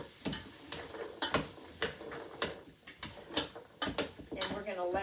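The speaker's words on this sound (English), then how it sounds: "grab a spoon, stir it around a bit" A metal spoon stirs chopped vegetables for carrot soup around a cooking pot, giving irregular clinks and scraping knocks at close range, with a voice talking near the end.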